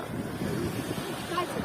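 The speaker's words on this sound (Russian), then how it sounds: "лодка отправляется" A boat heads out to sea off Erdemli, Turkey, its low rumble mixing with steady wind buffeting the microphone and the wash of waves for a short stretch, fairly distant and constant.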